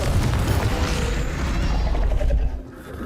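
A fiery Confringo explosion spell in Hogwarts Legacy bursts into a loud, dense rumbling blast that roars for about two and a half seconds before dropping away sharply into a quieter tail.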